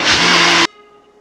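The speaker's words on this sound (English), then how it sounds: "I'm just going to go ahead and pop this on the blender" A blender whirs loudly at full power while blending oats and water into oat milk, a dense roar that cuts off abruptly after about half a second, leaving a faint hum.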